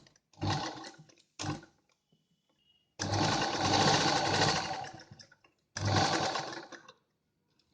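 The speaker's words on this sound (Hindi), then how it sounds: "यहाँ पर एक सिलाई आपस में इन दोनों को ऐसे जॉइन करके लगा लेंगे" A sewing machine stitches parts of an A-line inner-collar jacket dress together, two short bursts followed by a long steady run of close, whirring motor noise and a final burst, with quiet pauses between.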